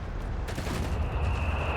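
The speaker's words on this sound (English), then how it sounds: "More artillery fire here being delivered onto German lines" Artillery fire in the game Company of Heroes 3, shells landing on German lines in a dense, continuous rumble of distant blasts and crackling gunfire, loud and sustained with no pauses.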